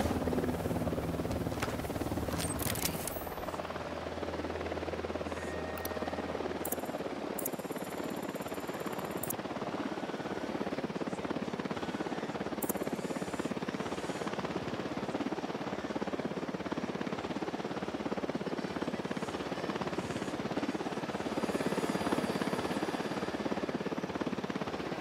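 A helicopter approaches in the video game Ghost Recon Wildlands, its rotor drone holding steady and continuous for the whole stretch, with a few brief game sounds early on.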